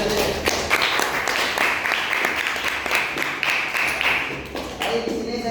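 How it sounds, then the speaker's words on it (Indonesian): Classmates applaud a student presenter during a teaching practice lesson, a short burst of uneven clapping from a small group nearby, fairly loud, with murmured voices underneath. "Tepuk tangan untuk Mas Yasir"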